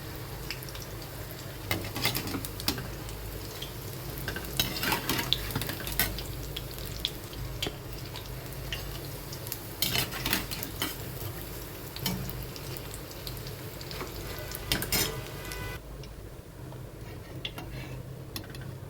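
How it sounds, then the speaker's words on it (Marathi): Gram-flour-battered green chillies deep-frying in oil in a wok give a steady, close sizzle dotted with crackles and occasional ticks, continuing without speech. "आता मिरची तळून झालेली आहे"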